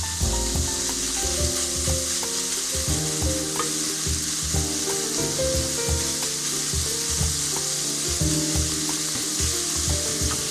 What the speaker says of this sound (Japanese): ひき肉の方がだんだん炒まってきましたので